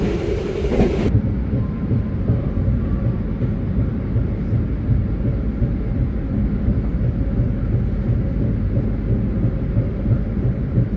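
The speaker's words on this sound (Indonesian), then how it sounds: "barusan kereta api Jayakarta meninggalkan stasiun Walikupun ya" A Jayakarta passenger train departing the station rumbles steadily nearby, a continuous low roar of rolling wheels with no voices, holding constant throughout.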